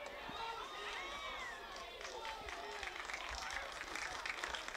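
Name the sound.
crowd applauding at women's football match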